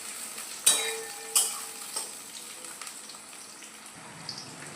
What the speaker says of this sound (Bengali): এবার পেঁয়াজ কুচিগুলো দিয়ে দেবো, দিয়ে একটু পেঁয়াজগুলো ভেজে নেব।